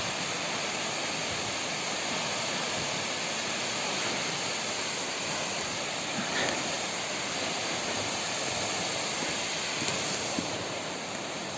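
Çongara waterfall near Tarsus, Turkey, pours in a continuous broadband roar of rushing water, steady and fairly close throughout, with no talking.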